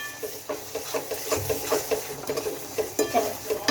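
Potatoes fry lightly in a pan, giving a soft sizzle broken by repeated scraping stirs of a spoon in an uneven rhythm, close and fairly quiet.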